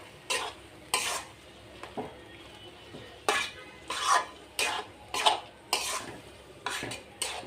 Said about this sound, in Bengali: তো আমটা দিয়ে সব কিছুর সাথে মিশিয়ে নিলাম